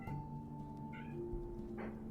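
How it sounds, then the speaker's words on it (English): Cats meowing indoors, a couple of short mewing calls rising over a steady tonal background hum, fairly quiet and close. "Kitties."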